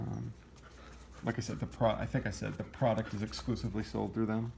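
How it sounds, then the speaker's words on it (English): Dogs pant and whimper faintly behind someone talking, with short whining cries scattered under his speech indoors. "Sorry for the dogs."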